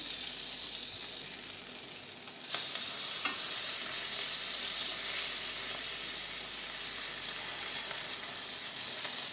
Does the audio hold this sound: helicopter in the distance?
no